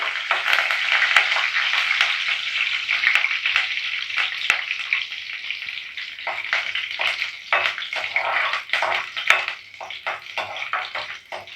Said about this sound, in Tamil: பூண்டு கொஞ்சம் வதங்கி வரட்டும்